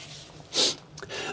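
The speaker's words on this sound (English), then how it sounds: "Blow my nose" One short, forceful nose blow close to a chest-worn microphone, a breathy burst followed by a fainter second puff, in a quiet room.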